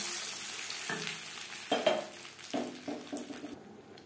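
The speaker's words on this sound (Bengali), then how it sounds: "ফোড়ন দিয়ে দেবো ডালে।" Tempering spices hiss and crackle in hot oil for masoor dal with papaya, with a steady sizzle broken by a few louder bursts and stirring scrapes, heard close and without voices.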